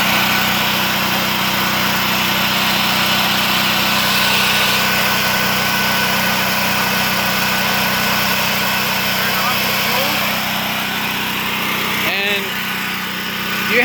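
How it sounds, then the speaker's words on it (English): A Predator 8750 portable generator engine runs steadily behind a house, a loud, constant droning hum with no letup throughout. "So here we are at the generator."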